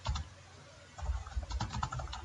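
C# code is typed on a computer keyboard, with close, quick key clicks coming in a short burst after a brief pause.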